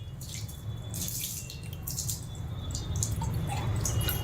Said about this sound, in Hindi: पहले 1 लोटा पानी डालो